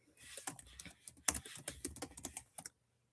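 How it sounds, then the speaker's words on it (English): Quick, close keystrokes tap on a computer keyboard in an uneven burst for about two and a half seconds, then stop. "I'll type it to you."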